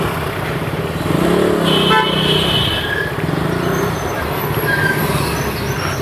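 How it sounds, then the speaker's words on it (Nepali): A vehicle horn sounding in Kathmandu traffic, a sustained mid-pitched honk rising out of loud, continuous road noise and engine roar, with fainter toots farther off. "कसले हर्न बजाइरहेको?"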